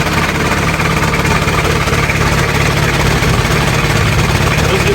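A 1994 Isuzu Panther Hi-Grade diesel engine idles steadily, loud and close, with a constant rumbling, slightly knocking drone throughout.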